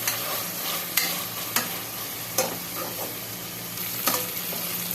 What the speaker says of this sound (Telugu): ఆనియన్ మగ్గిపోయింది కదా. ఇప్పుడు శనగపప్పు వేసేద్దాం. ఒక 2 మినిట్స్ అలా మగ్గనిద్దాం.